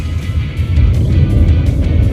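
A Xenia 1000cc car fitted with a modified ignition coil booster accelerates hard in fourth gear, its engine a steady, loud low-frequency drone that holds throughout.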